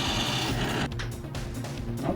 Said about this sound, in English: I mount the upright to my vise and carefully place it under the drill and carefully drill the hole out